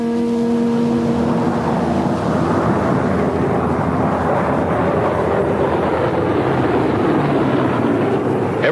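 Military aircraft of the 14th Air Force attacking Japanese shipping in the China Sea during the 1940s, a steady loud roar of engines with rumbling, explosive-like texture throughout, no speech.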